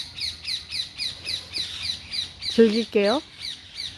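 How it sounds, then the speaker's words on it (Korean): Birds chirping outdoors at the Three Fountains church in Rome, a steady run of short, repeated squawking calls, then a brief louder, lower call near the end, with a voice speaking briefly. "새소리 들리시나요?"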